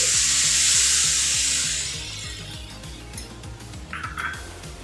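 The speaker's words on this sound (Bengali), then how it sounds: "হলুদ লঙ্কার গুঁড়ো জিরের গুঁড়ো ধনিয়া গুঁড়ো সেই মশলাটা এতক্ষণে অনেকটাই ভিজে গেছে আমি এটা দিয়ে দিচ্ছি" A wet paste of turmeric, chili, cumin and coriander powders hits a hot pan, a loud hissing sizzle that gradually settles into a softer bubbling fry, with a rhythmic low thumping beneath.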